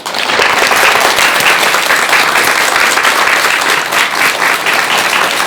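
A studio audience gives a lecturing monk a big round of applause at a televised talk, a dense, loud, steady wash of many hands clapping together with no voices over it.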